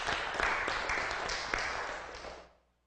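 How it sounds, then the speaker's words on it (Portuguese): Studio audience applause on a Brazilian afternoon TV show, a full burst of clapping that holds steady, then tapers off and cuts out near the end. "Vamos aplaudi-lo."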